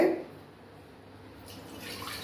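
Soft, faint water pouring into a cooker, three bowls of water measured out for onion vadam batter, a quiet trickle that grows slightly louder toward the end with no talking.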